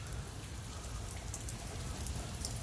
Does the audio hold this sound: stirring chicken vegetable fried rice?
no